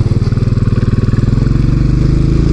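A Royal Enfield Classic 500 single-cylinder motorcycle thumps along at low revs, its loud, evenly spaced exhaust pulses quickening slightly as it rides, close and clear.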